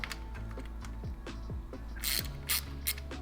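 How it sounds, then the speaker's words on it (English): Rapid, close ratchet clicks loosen engine cover bolts on an Aprilia RSV4 motorcycle, a steady train of mechanical ticks with a few sharper metallic taps near the end. "So I'm going to start with these two."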